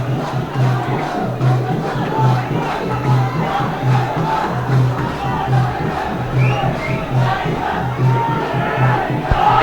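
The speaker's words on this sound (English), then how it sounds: "There's a lot of cheering up coming for the Vidyartha side." A large crowd cheers and chants at a school rugby match between Vidyartha and Sumangala, with a steady rhythmic pulse of voices and drumming under a continuous roar.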